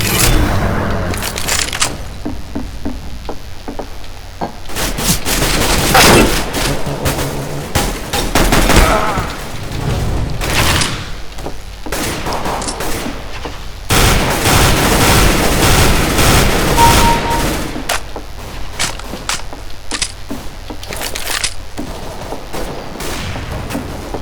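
Rapid bursts of gunfire in Counter-Strike: Global Offensive crackle throughout, with sharp shots and machine-gun volleys coming in waves, loud and close, separated by brief lulls.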